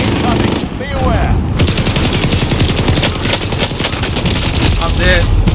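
Bren light machine gun rattling off sustained automatic bursts in a video game shooter, loud and close, with dense overlapping gunfire and battle noise running almost continuously throughout.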